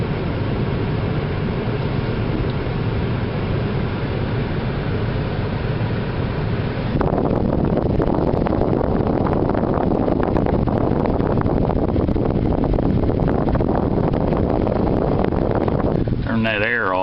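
Air from the vent of a 2001 Ford Taurus blows into the microphone as a loud, constant rushing roar that grows stronger partway through and then cuts off abruptly near the end.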